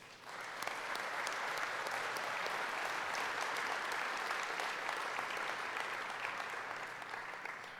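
A large audience at an awards ceremony applauds continuously, a dense, loud wash of clapping that swells early and tapers slightly at the end.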